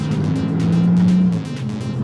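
A Maserati MC20 sports car engine drones at a steady, loud pitch from inside the car. The tone rises slightly, then eases off, with road and tire rumble underneath.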